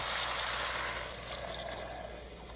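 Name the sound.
pouring Worcestershire sauce, crushed tomatoes and beef broth into soup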